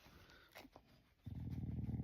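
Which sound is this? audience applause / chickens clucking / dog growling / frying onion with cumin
dog growling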